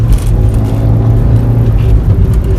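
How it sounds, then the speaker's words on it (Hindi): A Maruti XL6 car cruising steadily on a road, its low engine and road rumble a loud, constant drone heard from inside the cabin. "बाकी थोड़ा क्रूज करते हैं गाड़ी को, देखो भाई क्या स्टेबल है गाड़ी"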